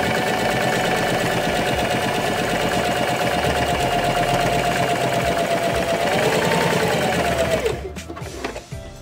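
A sewing machine stitches the sides of a children's fabric face mask in one steady, continuous whir at close range, stopping abruptly near the end.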